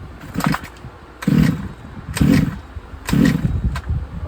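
Redcat Chimera RC car nitro engine, flooded, cranked three times in short bursts, each a loud buzzing rattle that sputters without catching, with quieter pauses between attempts.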